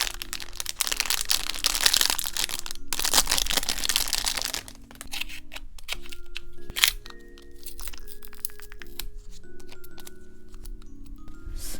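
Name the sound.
opening the wrapping of a masking tape roll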